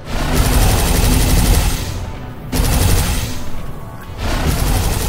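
Loud, sustained bursts of gunfire from the Devil May Cry 5 action game, dense rapid shots in two long runs separated by a brief pause, with no speech.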